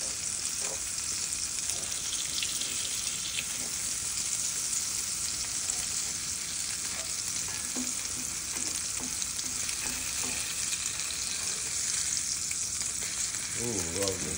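French toast sizzles in a frying pan after being flipped, a dense continuous crackling hiss that stays steady and close, with small stirring and scraping sounds near the end.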